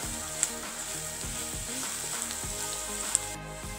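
A beef cutlet mixture sizzles loudly in a pan as it is stirred, with rhythmic scraping strokes repeating every half second or so and a few sharp clicks over the constant frying hiss.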